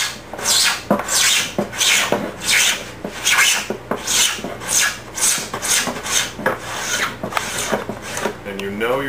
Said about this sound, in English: you know you're there when the card scraper no longer can take any more off